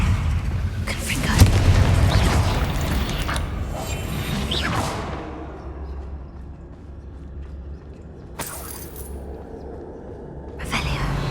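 Confringo spell blasts in Hogwarts Legacy boom and whoosh in several bursts, heaviest at the start and tailing off, with two sharper hits near the end.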